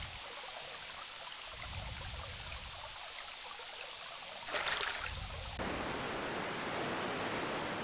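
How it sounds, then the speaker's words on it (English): Rushing stream in the King's Quest 3 Remake video game, a steady broadband wash of flowing water with no talk; a brief brighter burst partway through, then the rush turns louder and fuller for the rest. "A rushing stream."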